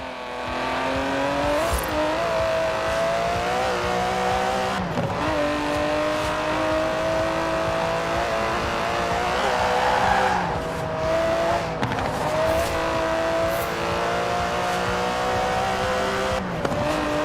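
Aston Martin DB11 with a 5.2-litre twin-turbo V12 driven in Forza Horizon 4, loud engine rising and falling through gear changes, revving hard with brief tire squeals.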